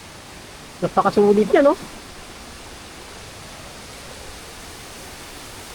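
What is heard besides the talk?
Mother Falls waterfall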